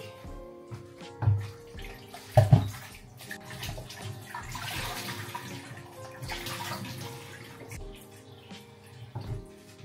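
Tap water runs and splashes into a container of raw potatoes being soaked before cooking German fried potatoes, a steady near pour with a few louder knocks and clatters.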